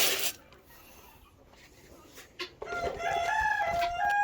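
A rooster crows loudly close by on a farm during chores, with a brief earlier squawk, then a sustained crow with clucking ending the moment.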